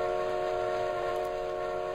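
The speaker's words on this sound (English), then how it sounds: "The Flying Scotsman whistled very crazily." The Flying Scotsman steam locomotive sounds its whistle in one long, steady, tonal blast, loud and unbroken across the whole moment.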